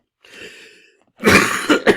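A breathy intake is followed by a harsh, close cough from a cold in a few rapid bursts, like clearing a congested throat.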